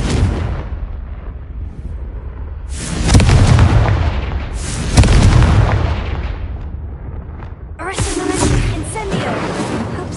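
A Confringo blasting spell in the video game Hogwarts Legacy sets off a series of loud booming explosions with crackling bursts that swell and fade over several seconds.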